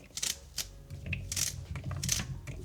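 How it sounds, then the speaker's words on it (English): A knife chops celery into small pieces on a board, giving a few sharp, close knocks spread over a couple of seconds against a quiet kitchen background. "I'm gonna cut up my celery into small pieces"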